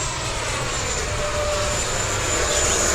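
E-flite F-16 80mm electric ducted-fan RC jet flying a four-point roll, giving a steady, loud turbine-like whoosh and hiss that holds even throughout, with no talking.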